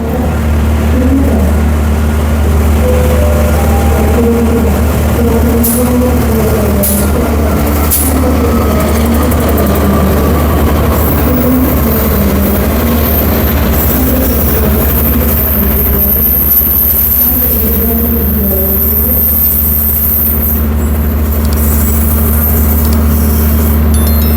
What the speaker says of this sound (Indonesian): yang baru saja masuk di jalur 4 ini adalah kereta api Kertajaya dari Pasar Senen tujuan akhir Surabaya Pasar Turi